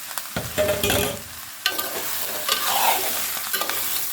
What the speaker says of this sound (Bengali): এবার আমি মরিচ দিয়ে লাউ দিয়ে দিলাম